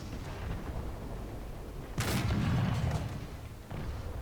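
A tank cannon fires in War Thunder around a German Tiger 1 heavy tank battle, one heavy booming blast with a rumbling tail over steady engine drone, then a fainter second thump.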